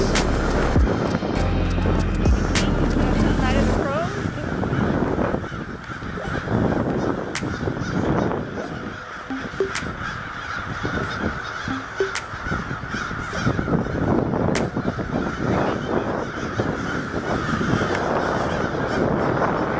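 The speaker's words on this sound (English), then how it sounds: "don't mind the crows, because there are a lot of crows around us" Crows calling from trees at a cemetery, repeated loud caws overlapping near and far against an outdoor background hum, with no talk.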